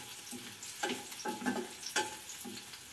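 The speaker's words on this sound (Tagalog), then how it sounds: "susutay na natin ang bawang at sibuyas" Garlic and onion sautéing in a pan, a steady soft sizzle with several scraping stir strokes spaced roughly half a second apart, close and fairly quiet, with no voices.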